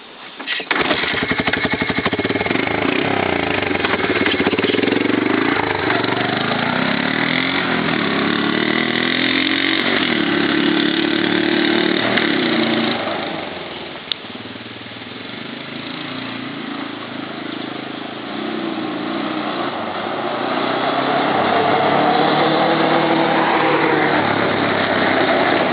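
A Yamaha kickstart dirt bike engine runs steadily and loudly close by, its note rising and falling as the rider heads up a driveway, with a brief dip in level midway before it revs back up.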